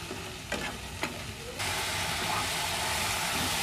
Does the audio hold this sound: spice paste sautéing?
yes